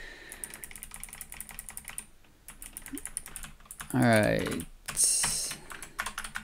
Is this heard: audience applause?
no